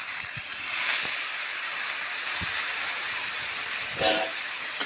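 Water poured into a hot pan of egg curry spices sets off a loud, steady broadband hiss that fills the whole stretch, close up and continuous, with faint brief clatters on top.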